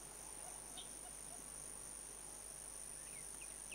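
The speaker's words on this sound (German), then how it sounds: "man hört Grillen zirpen, man hört Vögel im Hintergrund." Video game crickets, from The War Z, chirping steadily in a quiet night-like ambience, with a few faint bird calls in the distance.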